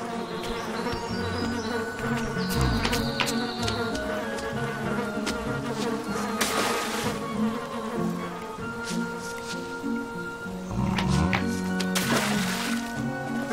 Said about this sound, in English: A swarm of bees is coming after Teku.